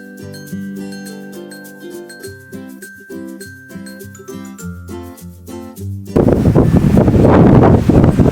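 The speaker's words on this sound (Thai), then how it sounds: "ลมแรงอีกแล้ว" Gentle melodic music gives way to a sudden blast of strong wind buffeting the microphone, loud and gusty for the last couple of seconds, on a hilltop among giant wind turbines at Khao Yai Thiang in Korat.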